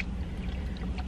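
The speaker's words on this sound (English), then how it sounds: "This hand sanitizer is mad liquidy. It's like water." Runny hand sanitizer poured out in a quick, watery stream, close and brief, with no one talking.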